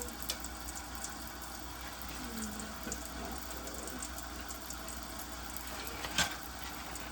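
Tap water runs steadily while an item is rinsed during a decontamination and sterilization procedure, a constant close hiss with a few small splashes and a brief louder splash near the end.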